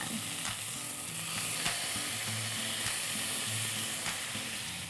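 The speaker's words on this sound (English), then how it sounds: "And you're just gonna put all of the tofu into the pan." Marinated tofu dropped into a hot oiled pan, frying with a steady, fairly quiet sizzle and soft crackling, no one talking.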